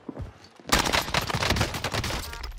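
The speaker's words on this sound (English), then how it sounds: "I'm taking fire" Sustained automatic machine gun fire in the online shooter Call of Duty Warzone (Cold War), an MG82 light machine gun, breaking in suddenly as a loud, dense rattling fusillade that runs on to the end, no speech.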